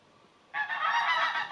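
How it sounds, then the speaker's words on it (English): Geese honk outdoors, a short burst of several overlapping calls starting suddenly after a quiet moment, moderately distant and clear. "Oh, there go the geese."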